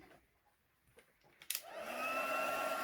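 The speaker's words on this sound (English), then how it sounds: "pop some embossing powder on that. And the heat tool again." A heat tool melting embossing powder on a stamped card starts up after a few faint clicks, its quiet fan whoosh building into a steady hum near the microphone.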